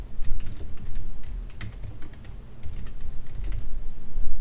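Quick, uneven keystrokes clatter on a computer keyboard, close and moderately loud, in bursts with brief pauses, with no voice.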